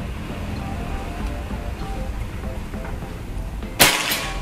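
A single sharp, snappy PCP air rifle shot cracks near the end, following several seconds of steady low background noise, fired at a 50-meter long-range target.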